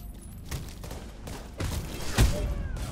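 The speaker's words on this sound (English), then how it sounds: "That is still a shotgun." Shotgun blasts in The Division 2 video game, a few sharp reports at moderate distance over a busy background, with the loudest blast near the end and no talking.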